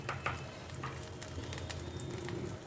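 Spices sautéing in a pan give a steady, soft sizzle with occasional stirring scrapes and light taps, close and even throughout.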